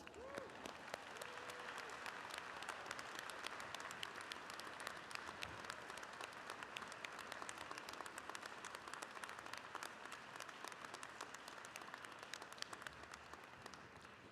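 Audience applause fills the hall at a university presidential inauguration, a steady, dense wash of many hands clapping continuously at a moderate distance, with no voices standing out.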